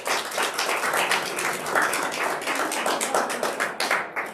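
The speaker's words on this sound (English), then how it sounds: "So let's give it first a round of applause for our actors tonight." Sustained audience applause and clapping for the actors of a murder mystery play at a Kansas City senior community event, dense and steady throughout with a few louder individual claps near the end.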